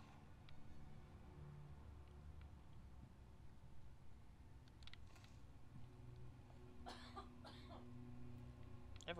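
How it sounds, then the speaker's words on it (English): Coughing from a person sounds in a few quick bursts late on, fairly faint, over a steady background hum during a Walking Dead Survival Instinct video game session. "Everyone's coughing today,"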